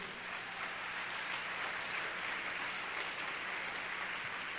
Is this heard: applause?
yes